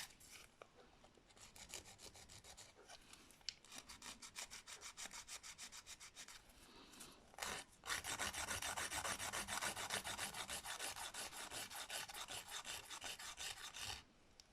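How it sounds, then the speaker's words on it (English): A nail file rasps back and forth along a PowerGel nail extension, shaping a ballerina coffin nail with a straight file; fast, steady close strokes, lighter in the first half and becoming denser and louder after a brief pause. "I'm going to start filing the elongation."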